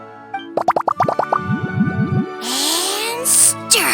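Ingredients drop one after another into a drink in the video game Genshin Impact, making a quick run of bright, bouncy plops with springy twangs, followed by a fizzy, rising swirl and a few sharp chimes.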